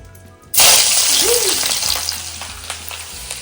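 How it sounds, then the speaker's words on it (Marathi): Onion, garlic and curry leaves hit hot oil for a tempering, letting out a sudden loud sizzle that slowly dies down into steady frying with scattered crackles and stirring, with no talking. "सगळ्यात पहिला आपण तेल टाकणार हा आणि कांदा लसूणची फोडणी देणार"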